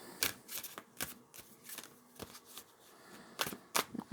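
A deck of oracle cards shuffled by hand at close range, producing rapid riffling bursts and soft slaps in an uneven rhythm, with no voice over them.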